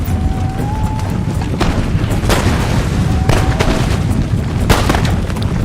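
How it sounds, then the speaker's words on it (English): Mortar and artillery fire in the Empire Total War battle game: repeated booming blasts and sharp gunshot cracks over a dense, constant roar of battle, loud and close, with no talk. "Some mortar fire missing, hitting some of my troops"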